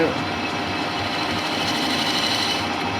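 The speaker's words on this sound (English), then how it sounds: "first operation is to face them off to length." A lathe faces off a sawn metal end to length while building parts for a handmade high-neck Sportster chopper, a continuous rattling, chattering machining drone close up, with a voice speaking over it.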